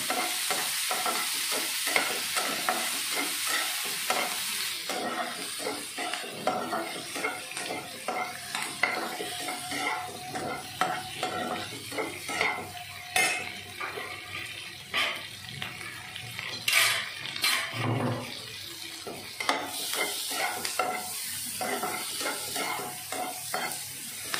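Okra frying with onion in a pan as tomatoes are added and stirred in, giving a steady close sizzle under repeated scraping and clinking of a utensil against the pan for the whole stretch, with no talk.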